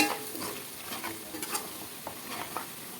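Egg pickle mixture is stirred in a pan with repeated scraping strokes over a soft sizzle, close and moderately loud, with no speech.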